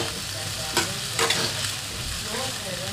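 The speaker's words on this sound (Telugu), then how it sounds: "దీన్ని ఫ్రై చేసుకుందాం బాగా" Ingredients for sabudana khichdi fry in a pan, a steady close sizzle with a few sharp spatula scrapes and clinks over three seconds.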